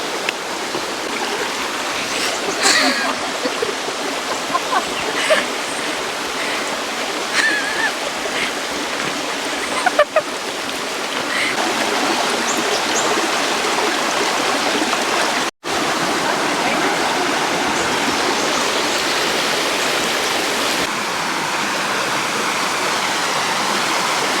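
Steady rushing of creek water flowing over rocks, a constant broadband wash close by, with a brief dropout partway through.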